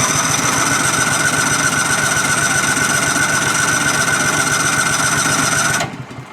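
A Cub Cadet XT2 lawn tractor with a fuel-injected EFI engine runs roughly up close, a loud steady pulsing drone with a faint whine, then cuts off abruptly near the end.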